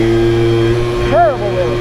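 A 2001 Yamaha Zuma scooter engine drones steadily during a wheelie, with a rising and falling rev near the end and a person talking over it.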